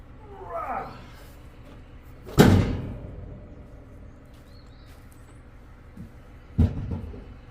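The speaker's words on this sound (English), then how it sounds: "Shut the doors." Farm building doors are shut with two heavy slams, the first loud and ringing, the second a few seconds later and softer, against faint outdoor background noise.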